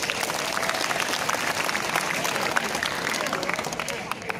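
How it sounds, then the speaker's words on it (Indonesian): Students in a school classroom applaud a classmate during a police school visit, a dense, sustained round of clapping with faint crowd murmur mixed in, holding steady before easing slightly at the end. "Tepuk tangan untuk Agustin"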